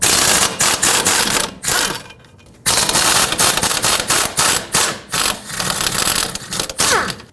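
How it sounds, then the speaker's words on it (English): A power tool removes 15 mm strut bolts from the control arm of a 2015-2020 GMC Yukon, firing loud, rapid impact bursts in several short runs with brief pauses between them. "Now we have to remove the 2 strut bolts that hold the strut onto the control arm here"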